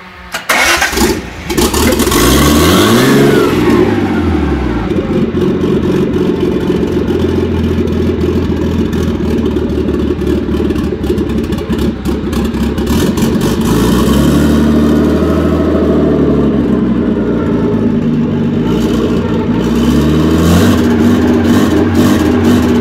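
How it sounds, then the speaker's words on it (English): Nissan RB20DET engine in a Datsun Bluebird 910 revs loudly up and down while warming, with rising and falling sweeps between a rough, steady idle, close and dominant throughout. "So we're going to get a little bit more heat into the motor."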